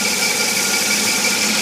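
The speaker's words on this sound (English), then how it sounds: "You can hear the engine." A 1950 Chevy truck with a desert radiator runs in Dallas, Texas, its engine giving a steady, loud, close-up mechanical drone with a hissy, buzzy texture and no breaks.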